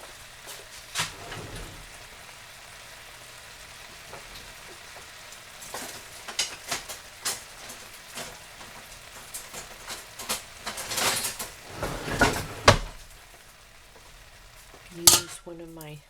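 Onion and chilies fry in a pot for beef curry, a low sizzle running throughout while a utensil stirs and scrapes with irregular clinks and knocks that grow busier toward the end.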